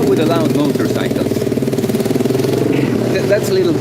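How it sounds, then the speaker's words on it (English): A motorcycle engine rumbles loudly and steadily throughout, its throbbing pulse running without a break, with some voice-like sounds mixed in. "The people with the loud motorcycles."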